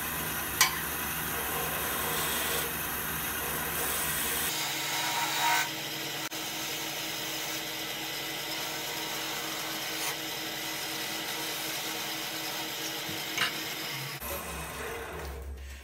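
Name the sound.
woodturning tool cutting a bead on a wooden goblet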